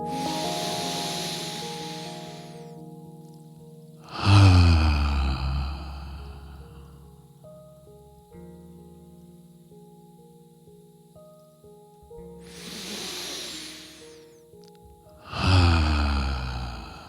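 Deep breaths during a breathwork practice: long, airy inhales and exhales in two pairs, close and loud against soft sustained background music tones.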